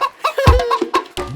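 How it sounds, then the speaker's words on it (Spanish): A hen clucks several times in quick, close, clear bursts, with short rising and falling calls and brief pauses between them, in a children's song. "¿Quién cacarea sin fin? ¿Qué es este son? Sí, es una gallina."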